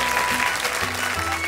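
Studio audience at a Chinese television dating show applauding, a dense continuous clapping that fills the short moment at steady volume; a faint voice may sit underneath.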